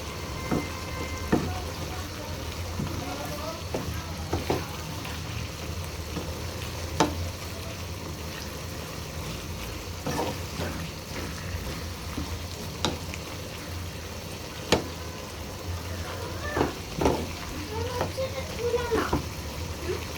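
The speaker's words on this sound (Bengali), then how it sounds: "শাকগুলো ভালো করে নেড়ে দিচ্ছি" Malabar spinach greens from a rooftop garden sizzle and hiss while being stirred in a pan, with steady frying noise, scattered utensil scrapes and clanks, and someone talking over it.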